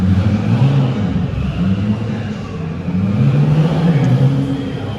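Steady low car engine rumble, loud and continuous, with slight rises in pitch as it revs, at an outdoor cars and coffee meet.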